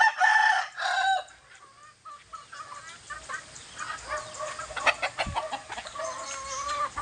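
Several chickens cluck and squawk nearby while a rooster crows, the calls overlapping in irregular bursts with quiet gaps between.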